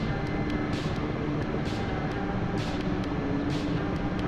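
Helicopter in the DCS flight simulator game, a steady broadband rotor and turbine drone holding throughout with faint periodic swells, close and continuous with no talk.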